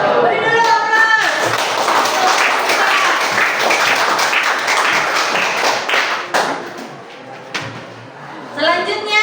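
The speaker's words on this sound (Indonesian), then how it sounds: "beri dulu aplaus." Audience applause at a classroom group presentation: dense, steady clapping from many hands, fairly close, dropping off briefly near the end, with a voice speaking over it at the start and at the close.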